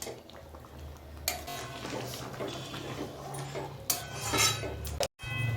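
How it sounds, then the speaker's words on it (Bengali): A spoon lightly stirs ghugni in a pan, with scraping and clinking against the metal, a couple of sharper knocks and a faint background hum, close and fairly quiet. "এবার একটু হালকা করে নেড়ে চেড়ে দিচ্ছি।"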